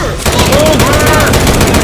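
Rapid gunfire from Left 4 Dead 2 survival mode at the Dead Air terminal, dense continuous bursts that fill the clip after a short quiet start, with a shouting voice mixed in.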